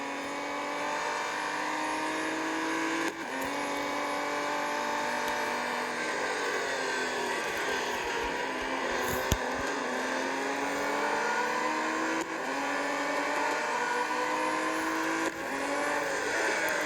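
Race cars lapping Le Mans in a racing video game, several engines droning and shifting gears continuously at steady high volume, with rising and falling pitch sweeps as cars accelerate and pass.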